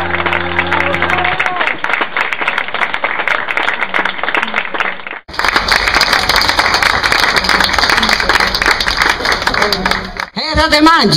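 Enthusiastic applause and clapping from an audience at a live concert in an Italian arts cafe during a Piedigrotta festival evening, sustained and fairly loud for several seconds, with music and voices mixed in.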